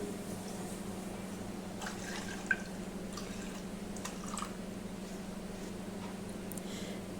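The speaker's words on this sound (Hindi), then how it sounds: "पानी 1/2 कप ही हम इसमें पानी ऐड करेंगे।" Half a cup of water goes into a cooking pot while making an orange and milk dessert, heard as faint, sparse drips and a light trickle over a steady low background hum.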